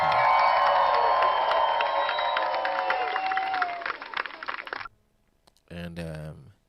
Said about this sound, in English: Give them their round of applause.